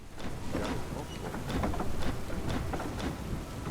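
Steady rain with low thunder rumbles in the game Stoneshard, a dense continuous wash of downpour with rolling swells and no talk over it.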